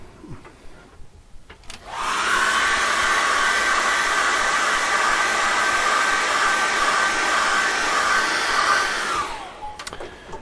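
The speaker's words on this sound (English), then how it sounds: "I need to put a hairdryer on that now" A hair dryer blows steadily on freshly applied acrylic paint for about seven seconds, a loud continuous whoosh that starts abruptly and cuts off, with quiet room noise before and after.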